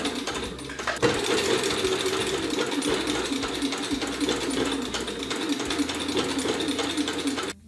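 A sewing machine stitches a scalloped hem over the edge of fabric for pajamas, running in a steady, busy whir that picks up after a brief start and continues unbroken, close and fairly loud.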